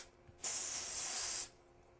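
Spray paint can fired through a stencil, a single close hissing burst of about one second that starts and stops abruptly against a quiet background.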